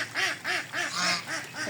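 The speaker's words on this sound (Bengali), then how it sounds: "ওই যে ওইটা চীনা হাঁস, ওইটা গোসল ভেসে বেড়াচ্ছে এখানে" A Chinese goose on a pond gives about six loud, evenly spaced nasal honking quacks in quick succession, close by and with no talking.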